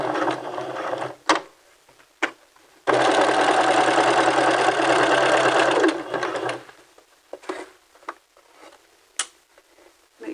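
A sewing machine stitches and back-stitches a seam on a McCall's 7430 dress, running in short bursts and one long steady run, with close, loud mechanical whirring and pauses between runs.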